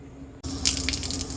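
Water gushes through a campervan's plumbing while the system is tested for drips, starting abruptly after a brief quiet and flowing steadily close by with splashy hiss.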